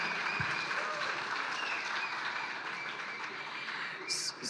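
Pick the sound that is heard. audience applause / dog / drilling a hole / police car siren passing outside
audience applause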